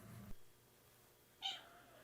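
A house cat gives a single short meow at close range in a quiet room, preceded by a brief low thump, with no talking.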